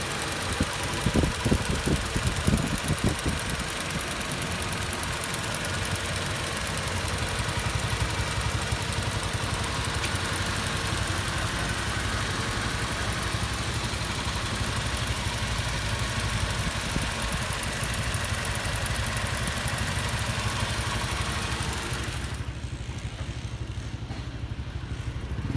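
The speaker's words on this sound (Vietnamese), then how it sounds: "anh em hãy nghe và cảm nhận về chiếc máy này" A cleaned engine of a 2007 Toyota Innova G idles steadily and close for about twenty-two seconds, a continuous mid-pitched hum with a faint knocking texture, before the sound cuts away near the end.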